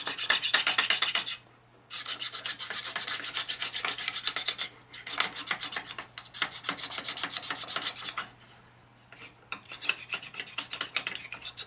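A part from a 1946 Harley-Davidson knucklehead stroker motor being rebuilt is wet sanded by hand, giving close, rhythmic back-and-forth rasping strokes in long runs broken by a few short pauses. No voices.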